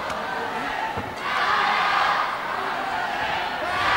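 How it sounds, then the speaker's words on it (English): A boxing arena crowd at a lightweight bout in an individual championship roars steadily and swells louder as the fight turns, with commentators talking under the din. "this crowd is going to help to spur him on"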